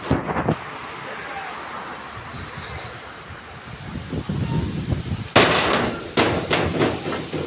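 Thunderstorm with strong wind and rain over a rooftop in Jhenaidah, Bangladesh: a steady rush of wind and rain, then sharp loud thunder cracks and bursts in the last few seconds.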